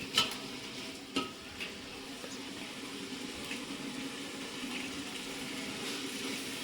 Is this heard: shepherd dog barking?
no